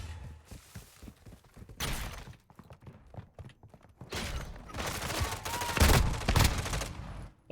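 Gunfire in the video game PUBG, several bursts of sharp shots and rapid volleys separated by quieter gaps, loud and close with a heavier cluster near the end.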